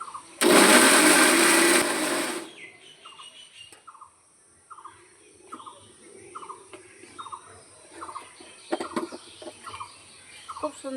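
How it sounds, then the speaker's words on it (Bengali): A mixer grinder runs loud and close for about two seconds, blending jackfruit pulp into a paste, then cuts off, leaving faint repeated chirps and soft background noise. "একটা মিক্সি বাটি নিয়ে নিয়েছি এই বাটির মধ্যে দিয়ে দেবো মানে পেস্ট করে নেব"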